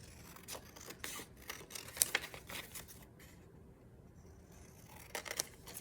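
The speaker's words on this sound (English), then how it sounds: "these are easy enough to do basically straight with my scissors" Repeated snipping of scissors cutting through paper, close and quiet, with small crinkling and rustling sounds between the cuts.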